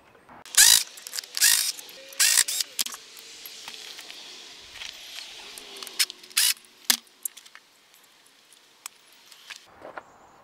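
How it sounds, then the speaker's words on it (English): A ratchet working on the alternator of a MINI Cooper S engine, bursts of quick clicking pawl strokes close by, with pauses and small metallic clinks between them, growing sparser toward the end. "I'm gonna pop the alternator off of here"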